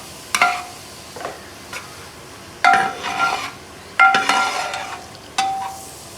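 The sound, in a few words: beef fry being stirred and roasted in gravy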